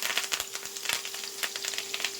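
Curry leaves, garlic, cumin, chillies and mustard seeds sizzle in hot oil for a tempering, a steady close crackle with sharp pops scattered throughout, heard alone.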